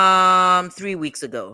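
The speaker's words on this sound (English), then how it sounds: "That's my alarm basically telling me not to be late." A buzzing electronic alarm holds one steady, harmonic-rich tone for about half a second and then cuts off, and a voice starts talking right after.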